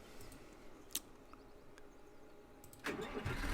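A tractor engine in Farming Simulator 2013 cranks and starts near the end, after a quiet stretch with a couple of faint clicks, then settles into a low running rumble.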